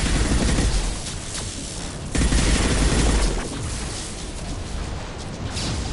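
Gunfire aimed at capacitors in Mass Effect Legendary Edition, dense rapid bursts of shots with a heavier burst near two seconds, continuing steadily and fairly loud throughout the combat.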